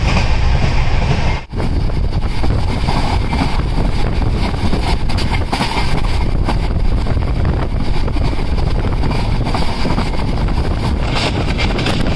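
Cholan SF Express train running along the line toward Papanasam station, a loud continuous rumble with wind buffeting and rattling throughout, no voices, steady from start to finish.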